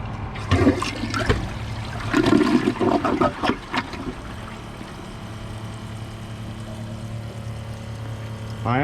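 Champion 4 or Kohler Class 5 toilet flushes nearby with a gurgling rush of water in uneven surges for about four seconds, then settles into a quieter trickle and refill hiss.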